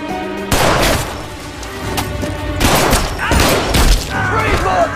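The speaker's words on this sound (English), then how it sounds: "Shots fired." Gunshots ring out in an action film shootout, with loud bursts of fire and heavy thuds rising over a tense background score, each volley standing close and sharp.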